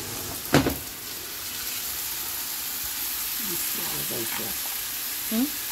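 Eggplant pieces sizzle in hot oil with fried spices and black gram seeds, a steady frying hiss with a sharp crackle as they go in, then stirring clatter and faint voices over the sizzle.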